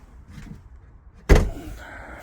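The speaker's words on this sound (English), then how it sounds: "It's a very squeaky door." A squeaky door on a Fiat 500 car swings and shuts with one loud, close thunk, with faint creaking and rustle before it and a short fading tail after.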